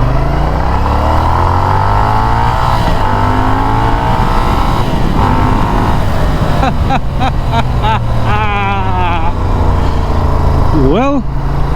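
A 2016 Moto Guzzi Audace motorcycle engine and exhaust accelerate hard, the loud, close engine note rising through the gears with shifts between them, then revving up and falling away near the end.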